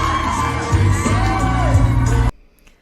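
A live audience at a talk show cheers and whoops loudly for about two seconds, a dense wash of voices that cuts off abruptly into near silence.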